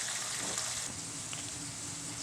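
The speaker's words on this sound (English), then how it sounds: "while we're waiting on our seafood to finish frying" Seafood frying in hot oil gives a steady, close sizzle and crackle with a bright hiss throughout, no voices over it.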